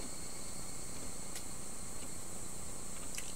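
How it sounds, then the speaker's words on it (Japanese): Cicadas in a video game's garden scene: a dense, continuous, high buzzing drone that stays steady and fairly loud throughout, with no other sounds. "セミの声が一つ減った気がした。"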